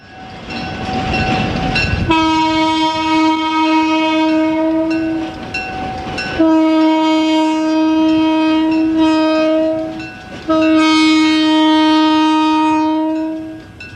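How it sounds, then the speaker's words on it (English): Rio Grande SW1200 switcher locomotive sounding its horn in three long, loud chords, each ending in a brief pause, with no one talking. "The SW1200 was equipped with a horn that I wasn't able to identify"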